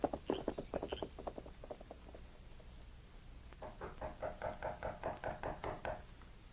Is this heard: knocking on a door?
yes